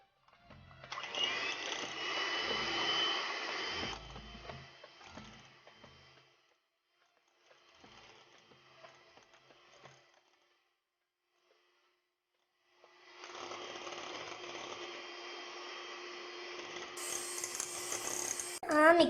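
An electric beater whips fresh cream for egg fruit ice cream in a kitchen, two buzzing bursts of motor noise separated by a quieter stretch of faint clatter, with a voice speaking in between.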